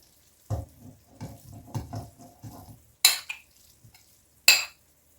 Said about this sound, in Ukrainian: Перемішую до однорідності.